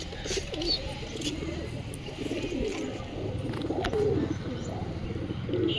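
Pigeons cooing close by in a soft rhythmic murmur, with occasional chirps, while a person talks intermittently over them.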